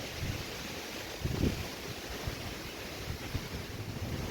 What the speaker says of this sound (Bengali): বাতাস দেখেন এখনও কিন্তু গুড়ি গুড়ি বৃষ্টি হচ্ছে